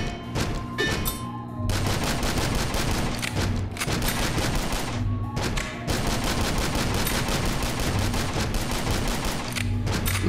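Assault rifle gunfire in the sci-fi shooter game Astroswarm: sustained loud bursts of automatic fire over a steady game soundtrack, broken by a few brief pauses, with no talking.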